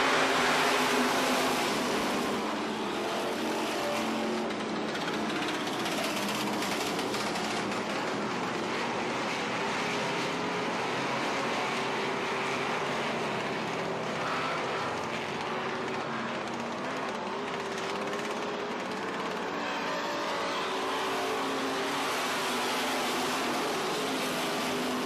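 Hobby stock race cars roar around a dirt oval in a steady, dense wash of engine noise from a pack of cars, loud and continuous with no talk, a crowd-level din throughout.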